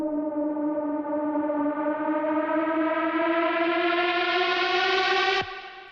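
A synthesized siren tone with stacked harmonics in a melodic techno track rises steadily in pitch over several seconds, then cuts off abruptly near the end.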